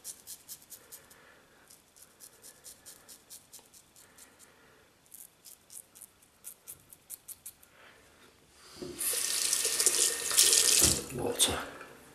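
A sink tap runs during a shave, first as a faint series of short rhythmic strokes and then as a loud, close gush of water for a few seconds before it cuts off.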